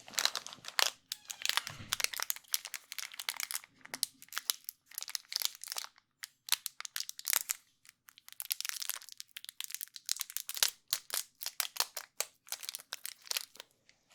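The plastic wrapper of a Fresh and Fruity sugar-coated gummy snack crinkles and crackles in dense, irregular bursts with brief pauses, close and crisp, alone without talk.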